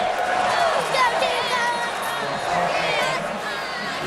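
A huge crowd at an LSU football game in Baton Rouge cheers and roars continuously, with shouts and whoops rising above a dense, steady wash of noise.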